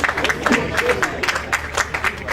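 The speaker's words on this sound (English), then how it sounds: "The applause is not long not enough." Audience applause in a hall during a talk on women as agents of change, a short burst of clapping that sounds thin and brief, with a busy, broadband texture.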